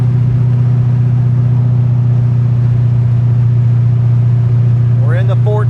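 A car engine droning at a steady, loud, low hum while cruising after a shift into fifth gear, continuous and close inside the cabin, with a brief voice at the end.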